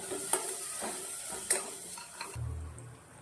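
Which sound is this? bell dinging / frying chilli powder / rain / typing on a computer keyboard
frying chilli powder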